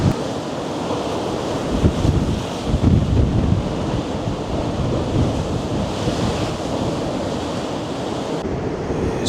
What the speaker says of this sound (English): the tide and the waves, and sometimes it comes right crashing right over you